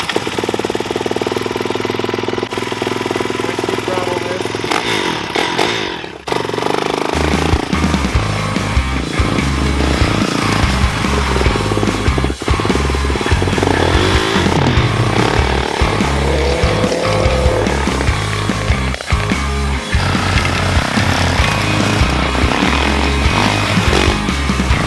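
An old Honda CR 125 two-stroke dirt bike engine starts after a brief quiet moment, then runs loud and close with a choppy, pulsing idle and occasional blips of revs, with no talking.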